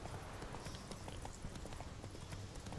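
The horse Roach galloping in The Witcher 3, its hooves beating a quick, steady clip-clop rhythm throughout, close and clear, with no talking.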